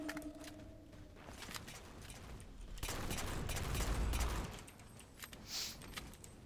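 Rapid bursts of gunfire from a Magnum pistol in Halo: The Master Chief Collection, crackling shots layered over other battle noise and a heavier rumbling burst midway.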